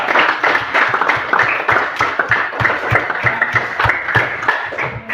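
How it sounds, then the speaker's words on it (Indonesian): Steady applause from a classroom group during a guidance session fills the whole stretch: dense, even clapping from many hands at close range, with no break and almost no talk. "Tepuk tangan untuk kelompok 2"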